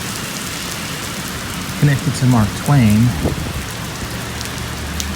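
Heavy rain pours down steadily outdoors at a New York State graveside, a dense hiss throughout while someone speaks briefly over it.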